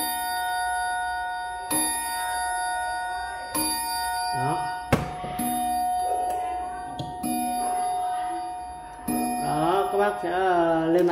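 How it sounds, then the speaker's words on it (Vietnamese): A Citizen wall clock from Japan, made of solid wood, chimes loudly with resonant ringing strikes roughly every two seconds, while someone talks over the ringing. "chuông đánh rất vang luôn"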